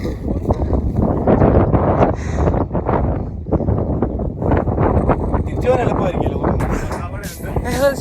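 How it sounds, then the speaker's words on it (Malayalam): Strong wind on a mountain top along a trekking trail at Vagamon roars steadily and loudly into the microphone, gusting throughout, while people talk over it. "ഒടുക്കത്തെ കാറ്റാണ്. കാറ്റ് കാരണം നടക്കാൻ പറ്റില്ല."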